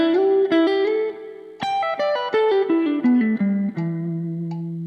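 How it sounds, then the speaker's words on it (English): Guitar exercise of hammer-ons, pull-offs and slides over an 80 BPM metronome, close and clear, notes stepping down in a steady measured rhythm with sustained ringing tones and no talk. "we're starting with an 80 BPM metronome"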